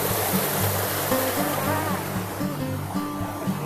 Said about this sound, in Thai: นี่เรามาถึงแล้วน้ำตกผางามงอน